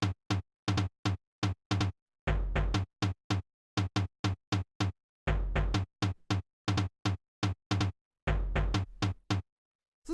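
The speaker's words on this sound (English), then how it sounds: "The next sound we have here is the tom" Footwork tom drum sample in a syncopated, off-kilter rhythm: rapid punchy hits with deeper sustained booms recurring in loops, loud and close with no talking.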